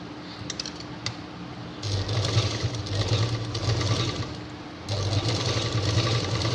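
A sewing machine stitches a homemade purse in two bursts of rapid, close needle chatter with a low motor hum. A short quieter pause falls between them and soft handling noise comes before.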